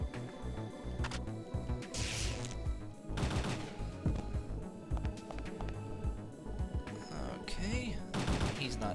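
Gunfire in the video game Parasite Eve 2 rattles through a dense game soundtrack, several sharp bursts of shots spaced across the stretch amid continuous music and effects, fairly loud and busy.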